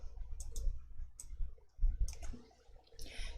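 Several crisp mouse button clicks while working in an Excel spreadsheet, scattered irregularly with pauses between them, close and fairly quiet against a faint room background.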